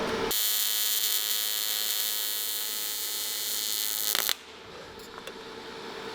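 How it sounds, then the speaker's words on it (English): Tack welding on intercooler piping for a DIY twin-turbo Nissan 350Z build gives a steady, loud electric buzz with a crackling edge. It holds for about four seconds, then cuts off abruptly, leaving a quiet room with no talk. "Just get this bit tacked in place"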